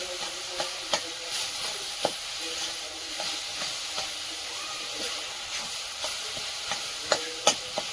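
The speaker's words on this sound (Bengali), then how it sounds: "শাক ভাজা দেখলেই লোভ লাগে" Leafy greens (saag) fry in a pan while a spatula stirs them, giving a continuous hiss and sizzle broken by sharp, irregular scraping clacks of the metal against the pan.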